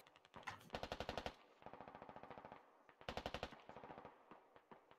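Heavy machine gun fire in the military shooter Squad: loud, rapid bursts of evenly spaced shots, several long strings separated by short pauses, with quieter distant gunfire continuing between them.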